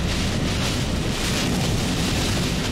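A strong gust of wind from Tropical Storm Gordon buffets the microphone on a coast with a steady, loud rushing roar for a few seconds.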